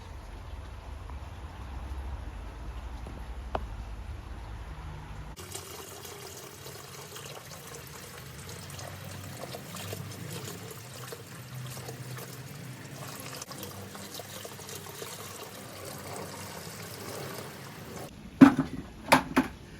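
A steady, soft stream of water pouring and splashing continuously into an outdoor aquarium in winter, followed near the end by a few sharp knocks and clatters.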